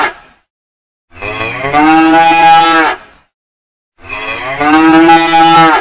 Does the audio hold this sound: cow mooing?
yes